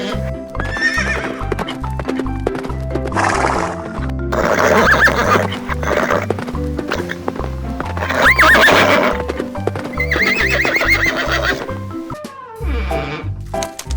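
Recorded horse sound effects play for a farm animal diorama: repeated loud whinnies and neighs over a steady rhythmic clip-clop of hooves, layered and continuous.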